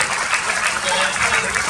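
Audience applause at a cancer awareness event at a yoga institute, a dense continuous patter of clapping heard briefly and fairly loud.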